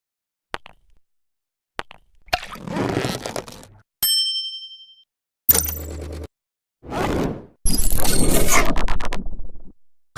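A bright notification bell rings once with a clear, ringing tone, surrounded by several separate whooshes, clangs and plops from a sequence of effects, each sharply cut and alone.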